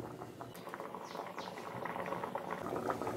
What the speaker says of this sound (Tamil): பாருங்க, குழம்பு நல்லா கொதிச்சு இப்போ பாதியாக குறுகி வந்துட்டு இருக்குங்க.